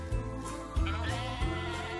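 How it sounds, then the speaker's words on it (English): A goat bleats in an animated children's story, three drawn-out, wavering cries in a row, close and clear over a soft music background. "along came a goat,"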